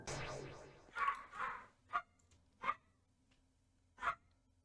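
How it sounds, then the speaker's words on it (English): A few sharp dog barks ring out in the distance, spaced irregularly over a quiet background with some earlier faint rustling noise. "There's a dog back there."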